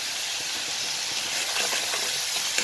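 Spices with salt and turmeric sizzle and fry in a pan, a steady close hiss with faint stirring clicks running throughout.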